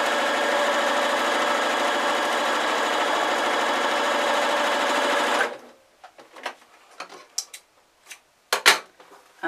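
A sewing machine runs a straight stitch across the top of a fabric Christmas drawstring sack, a loud continuous close whir for over five seconds, then it stops and fabric handling rustles and taps follow.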